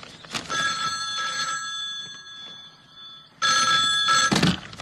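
An old-style telephone bell rings in two bursts, a long trill followed by a pause and then a second ring, loud and close in a quiet room.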